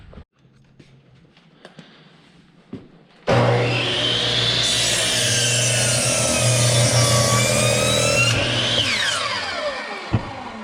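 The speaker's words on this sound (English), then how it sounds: "We got Eric on the miter saw" Miter saw cutting about a 4-foot 2x6 for knee braces on a bull pen build, starting abruptly with a loud whining spin-up, a sustained howling cut through the wood, then winding down after a few quiet clicks.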